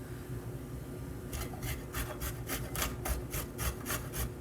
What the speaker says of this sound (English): And then we're using our awesome grater again.